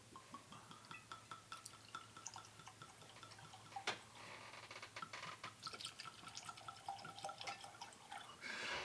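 Whisky pours and gurgles from a bottle in a steady trickle with small drips, quiet and close, with no talking.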